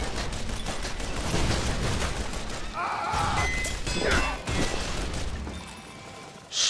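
Rapid machine gun fire and crashing impacts from the video game Shoot Many Robots on Xbox 360, a dense loud burst of shots and hits running through the few seconds alongside game sound.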